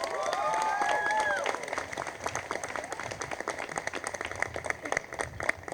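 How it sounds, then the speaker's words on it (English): An audience at a school moving-on ceremony claps for students, scattered hand claps continuing for several seconds after a brief burst of whoops or voices at the start. "Let's give these students a round of applause."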